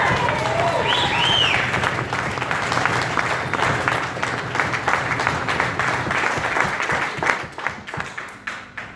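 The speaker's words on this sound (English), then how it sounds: "so big round of applause for them 2 girls" Wedding guests applauding the bridesmaids during a best man speech, a loud burst of clapping with cheers and a whistle early on, tapering gradually into scattered claps and voices.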